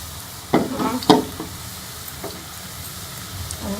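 Bread pieces frying in a pan for bread gulab jamun, stirred with a spoon: a steady low sizzle with a few clinking scrapes of the spoon against the pan, close by.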